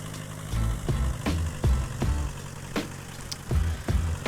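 A car engine idling in the driving game The Long Drive, a low rough rumble with irregular knocking thumps every half second or so, fairly quiet and heard on its own without talk.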